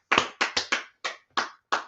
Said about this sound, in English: Let's clap it up for everybody in class